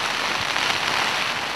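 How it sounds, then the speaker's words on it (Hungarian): Steady rain patters on a tent, a dense, even hiss of drops at close range, with no voices. "Esik csendesen az eső, már megint esik, piszkosul esik."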